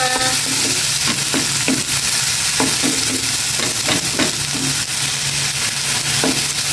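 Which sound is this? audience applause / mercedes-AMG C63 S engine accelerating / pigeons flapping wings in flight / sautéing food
sautéing food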